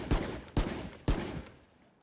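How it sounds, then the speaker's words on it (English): Bulldog rifle fire in Valorant: three sharp, loud gunshots spaced about half a second apart, each cracking hard and trailing into a short echoing decay, with nothing else heard between. "you're going to need 5 body shots with the Bulldog"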